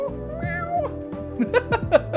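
A person imitates a cat's meow with voice alone, giving several short, close, rising mew-like calls in quick succession after a longer drawn-out tone.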